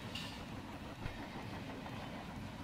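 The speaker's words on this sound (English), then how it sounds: "Another pretty long train." A long freight train rolls past an Arizona crossing in American Truck Simulator, a continuous moderately loud rumble with rhythmic clickety-clack of wagons, heard alone with no talk.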